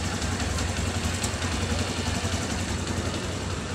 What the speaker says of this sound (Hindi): भाई बाइक कर दी इन्होंने स्टार्ट